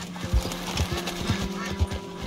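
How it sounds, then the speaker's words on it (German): Horse in the Red Dead Redemption 2 video game, with several close hoof clops and a short whinny over a steady low game hum, no talk. "Was beschwert sich mein Pferd?"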